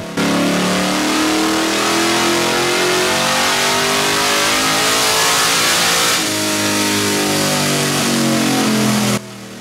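A Chevrolet S10 with an LS1 engine revs hard on a dyno, climbing steadily in pitch under sustained load, drops briefly, then winds up again loudly before cutting off.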